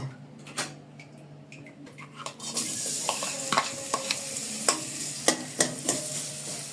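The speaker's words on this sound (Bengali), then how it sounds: "এখন এই পেঁয়াজ মরিচগুলো তেলের সঙ্গে হালকা করে ভেজে নিতে হবে" Chopped onions and chillies frying in oil for chicken khichuri, a steady hiss of sizzling that jumps louder as they hit the pan, punctuated by sharp scrapes and taps of a stirring spoon against the pot.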